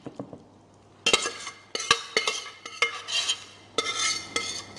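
Chunky chicken, potato and leek pie filling scraped from a pan into a pie dish, a run of close scraping, clinking and wet plopping strokes in several bursts with brief pauses between.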